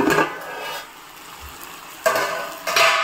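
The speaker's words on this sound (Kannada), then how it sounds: "ಈರುಳ್ಳಿ, ಕ್ಯಾಪ್ಸಿಕಮ್ ಹಾಕ್ಕೊಂಡು ಫ್ರೈ ಮಾಡ್ಕೋಬೇಕು" Onion and capsicum frying in a pan with oil, heard as a faint sizzle broken by close clinks and scrapes of a utensil against the pan, a burst at the start and two more near the end, no talk.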